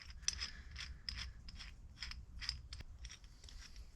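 Ratchet wrench turning bolts off the side of scrap for clean aluminum, a steady run of quick ratcheting clicks repeating close up with no talking.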